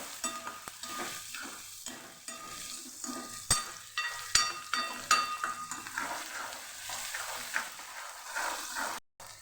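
Onions sautéing until soft in a pan for a Kathiyawadi-style Ratlami sev and tomato curry, a quiet steady sizzle broken by repeated sharp scrapes and clinks of a spoon stirring against the metal pan.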